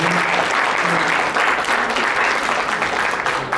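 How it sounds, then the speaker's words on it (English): Audience applause closing a medical society talk on AI in medicine, a dense, steady clapping from a room of people, fairly loud throughout. "Big round of applause for"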